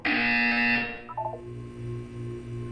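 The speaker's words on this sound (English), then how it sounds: "When you hear the buzzer, look up at the ceiling." A loud, steady electronic buzzer tone from the Portal 2 test chamber sounds for about a second, then cuts off into a quieter hum with faint pulsing beeps.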